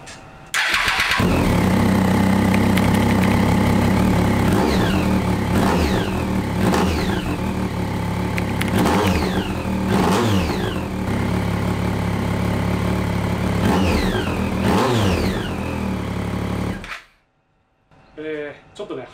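A freshly swapped car engine runs loudly and close, its idle wavering and surging unevenly in repeated swells with a raspy, sputtering exhaust note from a leak at a poorly joined muffler pipe, then abruptly cuts off.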